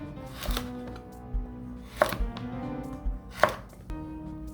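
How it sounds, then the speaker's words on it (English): A knife slices a vegetable on the diagonal into wide pieces on a cutting board, three crisp chops spaced about a second and a half apart, close and clear, with no talking. "We're going to cut on the diagonal. Well, we want to cut wide pieces."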